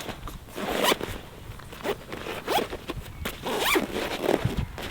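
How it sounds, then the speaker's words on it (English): Zipper on a Drifta recovery and shovel kit bag, several close, sharp zipping strokes in quick bursts with rustling fabric and handling noise between them. "Nice big zip."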